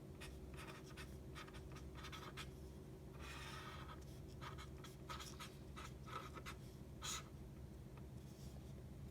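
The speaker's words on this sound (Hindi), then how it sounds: "तो लिखेंगे हम, कलामस्य स्वप्न" A pen writing on paper, a faint close scratching of short strokes in irregular bursts over a steady low hum in a quiet room.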